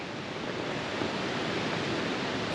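A creek flows through a mountain meadow near Seward, Alaska, giving a steady, close, even rush of water that fills the whole moment with no voices.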